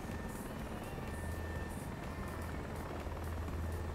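A simulated helicopter descending to land near a tower over Corsica gives a steady, loud rotor and turbine drone with a sustained whine, filling the clip alone without talk.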